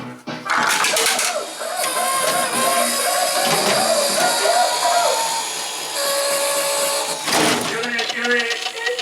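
A motor whirs inside a Gravity Hill arcade prize machine, a steady mechanical drone with clunks and rattles, ending in a sharp clatter as the big prize drops out.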